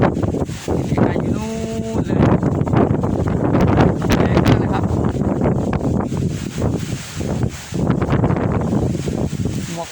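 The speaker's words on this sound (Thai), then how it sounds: "ลมแรงมากครับ" Strong wind on Khao Phraya Doen Thong buffets the microphone in a continuous roaring rumble, with a brief tonal voice-like sound partway through.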